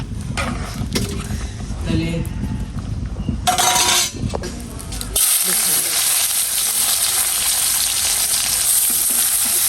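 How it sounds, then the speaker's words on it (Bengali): Lentils and spices frying in a pan for a fish-head muri ghonto dal, a steady close sizzle that turns brighter and louder partway through, with clattering stirring bursts before it. "একটু ভাজা ভাজা হতে"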